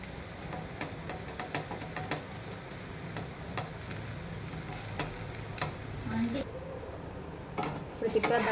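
A chapati cooks on an oiled pan, giving a close, steady sizzle broken by light clicks and taps of a spatula and pan. Brief voice sounds are audible.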